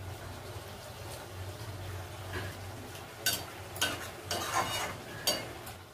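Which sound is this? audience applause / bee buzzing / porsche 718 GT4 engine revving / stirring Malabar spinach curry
stirring Malabar spinach curry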